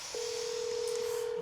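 A telephone gives a single steady, clear dialing tone that holds evenly for over a second over faint background hiss.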